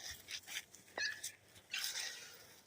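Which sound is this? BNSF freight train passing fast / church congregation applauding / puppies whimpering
puppies whimpering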